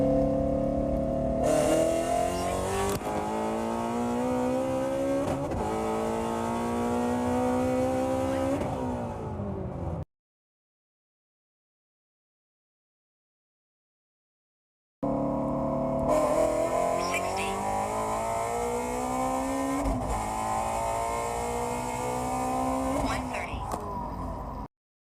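A Shelby GT350 Mustang tuned to about 800 horsepower pulls hard from 60 to 130 mph, its engine note climbing and dropping through gear shifts. A second full-throttle run follows after a silent gap.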